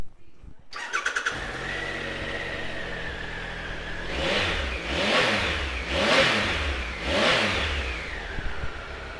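Triumph Explorer 1200 XC Globebuster motorcycle engine cranks and starts, settles into a steady idle, then gets three strong revs that rise and fall, loud and close with no talking.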